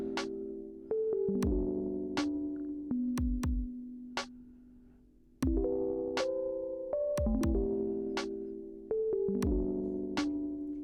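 A synth bass line through an auto panner, with sustained, plucky notes that swell and shift between speakers, rising and falling in level over a steady pattern.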